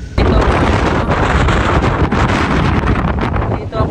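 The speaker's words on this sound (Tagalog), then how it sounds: "Lakas ng hangin" Strong stormy wind in Greenland batters the microphone with loud, continuous rumbling buffeting and gusty roar, filling the whole stretch without letup.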